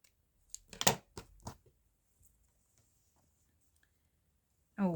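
Scissors snip a small piece of paper for a spring collage craft tag, a few quick close cuts, then near silence and a brief voice at the end.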